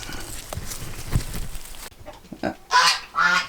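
Muscovy ducks give a few loud, nearby honking calls in the second half, preceded by a rustling, bumpy stretch with a low thump.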